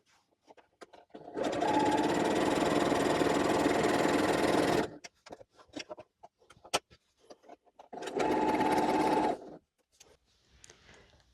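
Sewing machine stitching a quilt block, with two steady motor-driven runs of rapid stitching, a long burst and a shorter one, close and loud, separated by small handling clicks.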